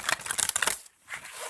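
Large, thick, stiff tarot cards are shuffled in a quick burst of papery riffling and slapping, followed by a short pause and a softer shuffle. The sound is close and fairly quiet.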